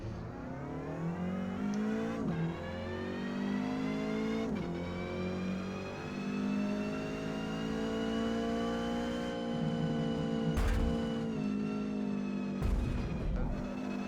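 A Ford Cortina in Forza Motorsport races at Watkins Glen, its engine droning loudly and steadily, rising in pitch through each gear with sharp shift breaks and occasional thumps, continuous throughout.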